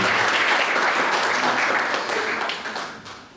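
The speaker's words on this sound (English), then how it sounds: "Let's give a big round of applause to Vinnie." An audience at an annual college seminar in Saratoga bursts into steady, dense applause, with many hands clapping at close range before the sound gradually fades.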